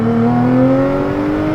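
A rebuilt Audi S5 engine revving while driving, a loud, smooth, steady engine note with gradually rising pitch, heard up close inside the car.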